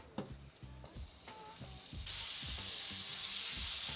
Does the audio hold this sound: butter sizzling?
yes